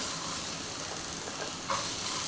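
Village-grown cluster beans dry-roasting in a hot pan give a steady, soft, even hiss throughout, with one brief scrape near the end.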